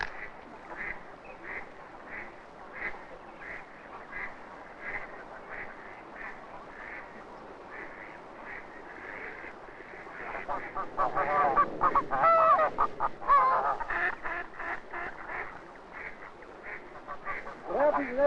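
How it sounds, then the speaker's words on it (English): A greater snow goose gander honks at its nest in defense, harsh repeated calls rising into a loud burst of honking midway, with faint talk beneath. "What you saw now was the nest defense by a greater snow gander."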